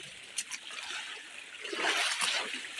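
Water flows and splashes against a damaged dike wall near the Mangla Dam, a soft continuous rush with a few brief splatters, fairly faint and heard alone.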